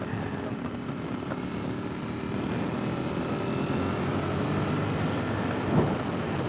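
A Ducati Streetfighter V4 motorcycle ridden on the road gives a continuous low rumbling engine roar mixed with heavy wind rush, steady and loud, with a brief swell near the end.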